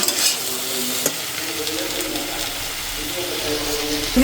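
Onions and fish frying together in a home pan, a steady broad sizzle with a few brief clinks of a utensil against the pan.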